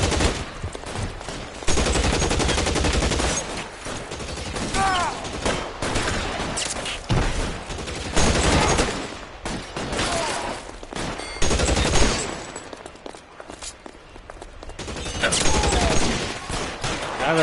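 Gunfire during an L.A. Noire shootout: dense, loud volleys of rapid shots in long bursts with brief lulls, close and harsh, with faint voices mixed in.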